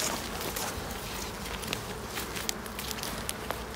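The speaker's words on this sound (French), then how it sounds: "Et voilà le frelon qui vient à peine j'ouvre" A hornet hovers around an opened beehive among the bees, giving a close, continuous insect buzz with a few faint taps and crackles over it.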